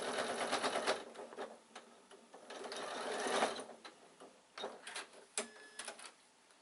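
A sewing machine stitches across a bag lining in quick rattling bursts, pausing and restarting with short clicks, close by and fairly quiet.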